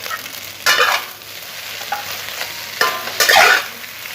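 Beef soy sauce spaghetti with egg being stir-fried in a hot pan, with steady sizzling and a few louder bursts of scraping and tossing, close and without talk.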